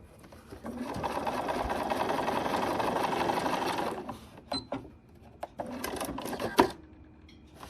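A sewing machine stitches heart-pattern quilt pieces, running in one steady, fairly loud stretch, then giving a few short stop-start bursts as the fabric is repositioned.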